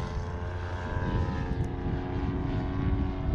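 An Extreme Flight Laser RC model airplane with printed covering flies on its maiden flight, its propeller engine giving a steady, sustained buzzing drone that holds fairly loud throughout, with no talking.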